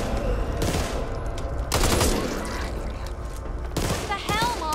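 Gunfire in the zombie shooter Back 4 Blood, a teammate hit by friendly fire, with dense bursts of shots clustered in loud stretches under ongoing game noise and players talking.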